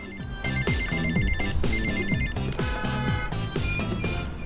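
A telephone rings in a 2015 Aguiles, Philippines drama scene, a steady repeating bell-like trill running loud and continuous throughout, layered over a dense background of music.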